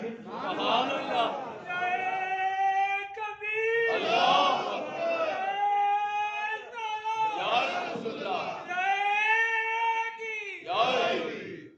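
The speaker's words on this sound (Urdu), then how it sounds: "یہ اللہ والا نعرے لگاتا ہے" A crowd at a Friday sermon about Khwaja Moinuddin Chishti chants religious slogans in loud, sustained unison, in repeated call-and-response bursts separated by short pauses.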